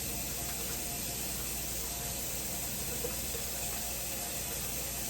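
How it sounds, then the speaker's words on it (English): Hands being washed with soap under a running tap at a kitchen sink, a constant dense rush of water that stays steady and close throughout, with no talking. "So I'm just gonna grab some of my soap here and wash my hands."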